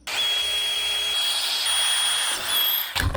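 A power drill whines steadily at high pitch for a few seconds, then slows and cuts off with a clatter at the end.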